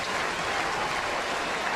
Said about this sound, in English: Listen to the Busch Stadium crowd.